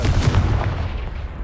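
A Confringo spell fires in Hogwarts Legacy, a loud booming blast with a low rumble that swells at the start and trails off over about a second and a half, with no talk.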